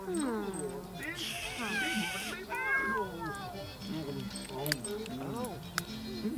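Cats in The Sims 3 meow several times, rising and falling cries mixed with other game sounds and someone talking throughout.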